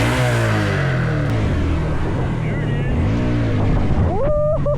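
Motorcycle engine revving steadily while a rider practises wheelies, with the pitch rising and falling through several throttle blips and a quick climb near the end, heard up close under wind noise and some talk.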